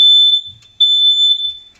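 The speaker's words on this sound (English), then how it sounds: "Oh, that's my smoke alarm." A piercing, high-pitched smoke alarm beeps loudly in long sustained tones, cutting off briefly between them, with no other sounds.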